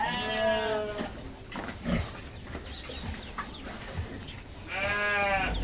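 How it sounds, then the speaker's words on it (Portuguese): A plump wild boar-pig cross in a farm pigsty gives two loud, high squealing calls, one at the start and one at the end, with quieter rustling and shuffling between them. "E eu vim mostrar aqui a javalizinha, java porco, né? Olha como a bichinha tá gordinha"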